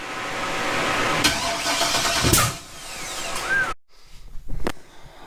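A stroked 6.0 Vortec V8 built out to 6.7 litres (408) with an aggressive cam fires up for the first time in a race truck, cranking and catching into a loud, lumpy rev before it cuts off abruptly, followed by brief shop noises.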